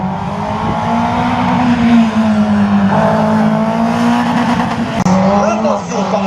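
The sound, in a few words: slalom race car driving the course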